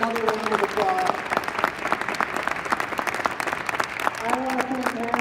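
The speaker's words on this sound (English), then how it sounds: "Let's give them another round of applause." A crowd at a math educators' Ignite evening applauds steadily for several seconds, a continuous wash of clapping with a voice speaking over it near the start and end.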